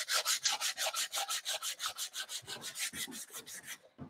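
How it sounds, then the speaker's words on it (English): A scrap wood board is sanded by hand with steady back-and-forth strokes, about two rasping passes per second, loud and close with no talking. "I'm just going to sand this because I want to stamp it."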